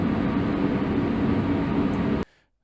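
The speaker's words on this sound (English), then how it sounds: "This is the sound of an industrial fan." Industrial fan captured on a field recorder, a steady dense broadband whoosh with a low rumble holding even and fairly loud before cutting off abruptly near the end.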